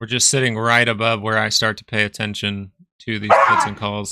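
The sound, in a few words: dog barking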